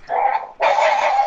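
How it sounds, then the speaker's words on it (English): Dogs in a fight let out two loud, close barking or yelping bursts, one short and then a longer, harsher one, with no talk over them. "Oh, dog fight."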